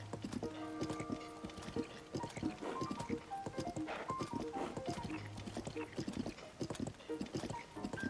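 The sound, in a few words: horse hooves clip-clopping in the video game Tears of the Kingdom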